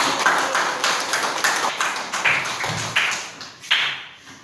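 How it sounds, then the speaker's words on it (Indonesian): A classroom of students claps for a classmate, a brisk run of overlapping hand claps in quick rhythmic bursts, close and fairly loud, with no talking over it. "Beri tepuk tangan dulu kepada David."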